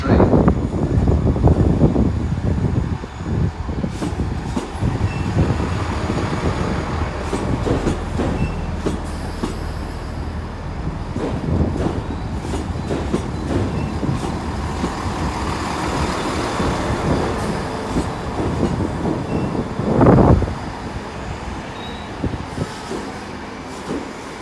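A train rumbles through Exeter St Davids station with a continuous rolling roar, wheel clatter and metallic squeals, with a louder burst near the end.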